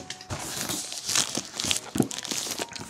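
Cardboard mystery box being torn open with care, giving close, loud crinkling and tearing bursts that run on and off throughout.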